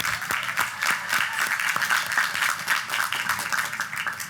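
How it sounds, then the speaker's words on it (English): A large commencement crowd claps at a college graduation ceremony, a sustained, even wash of many hands with a few sharper claps standing out, moderately loud throughout and with no talk over it. "Let's have a round of applause again"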